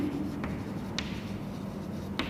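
Chalk or marker writing on a board during a physics lesson, soft scratchy strokes with a few sharper taps, steady over a low room hum with no talk.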